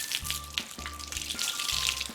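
Water sprays onto a saltwater fishing reel to rinse out salt, a steady hissing wash broken by low repeating thumps and hums, close and moderately loud, with no talk.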